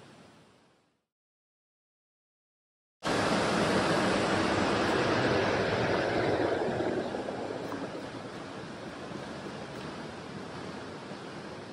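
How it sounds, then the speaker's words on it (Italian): A large waterfall roars as a loud, dense, continuous rush of water that starts abruptly after a short silence and fills the rest of the clip, fading slightly toward the end, heard up close from a rocky point. "l'audio sarà disturbato dal rumore della cascata."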